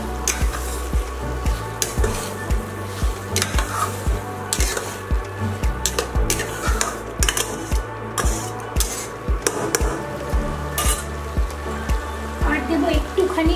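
Kochur loti (taro stolons) with mustard, poppy seed and grated coconut stirred in a frying pan: a spatula scrapes and taps rhythmically against the pan over a steady sizzle, while someone talks in between.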